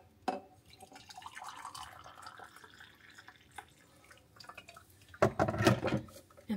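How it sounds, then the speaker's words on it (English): Hot water poured into a glass of powdered ginger tea, a light trickle and drip at moderate distance that swells into a louder, splashier pour near the end. "and then you pour your hot water."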